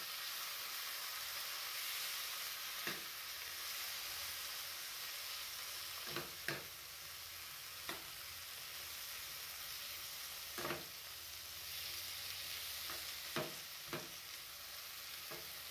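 Okra mixture being mixed in a hot pan, a quiet continuous sizzle and hiss broken by several sharp spoon scrapes and taps at irregular intervals.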